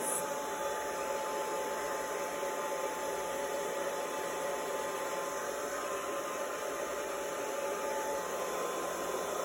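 A hair dryer fitted with a diffuser blows steadily while drying curly hair, a continuous close whooshing roar with a high whine that holds unchanged throughout.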